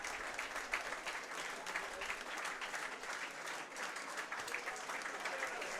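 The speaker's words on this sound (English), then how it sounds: "good round of applause from the people below us in the main stand" Spectators in the main stand at a rugby match between Newcastle Thunder and Wakefield Trinity clap steadily, an even, moderately distant wash of applause lasting throughout without a break.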